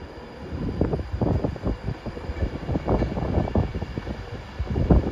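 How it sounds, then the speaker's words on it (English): A ScotRail train pulls out of Carlisle station toward Dumfries, a steady rumble of wheels and rolling stock with uneven knocks, heard fairly close with some wind noise on the microphone. "we're about to see the ScotRail service head out to Dumfries"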